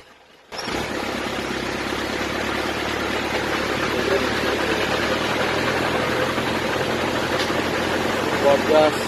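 A vehicle moving along a broken, flood-damaged village road in Zakiganj gives a steady, close engine drone throughout, under someone talking.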